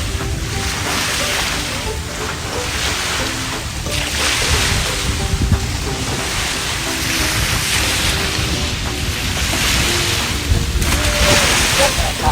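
Ocean waves wash in and surge at Pasir beach while a steady wind buffets the microphone, loud and continuous throughout with faint voices in the background.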